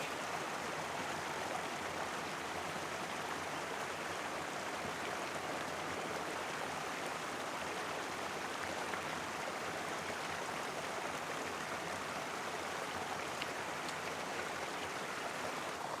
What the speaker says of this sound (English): filtering up some water while I'm here by the creek.